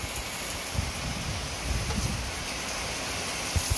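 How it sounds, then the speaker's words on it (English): Heavy rain pours steadily outdoors beside a newly filled garden pond, a dense, loud, continuous hiss with scattered heavier drops and no talking. "It is raining like crazy."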